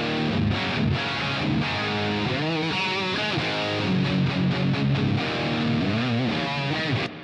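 Distorted electric guitar run through a Roland SD3000 digital delay, playing a dense, continuous riff with echoing repeats, loud and steady for about seven seconds with no voices.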